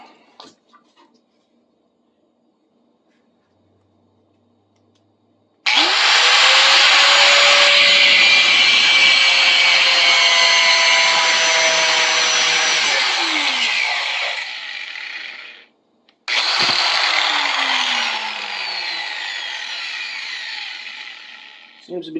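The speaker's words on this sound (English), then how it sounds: "So I'll break out the angle grinder, I'll put this in the vise with some leather to keep threads from getting damaged on the vise jaws, and we'll cut it off." An angle grinder cuts through a steel gear puller held in a vise with leather-padded jaws, a loud, sustained high whine and scream that runs for about ten seconds, stops briefly, then starts again.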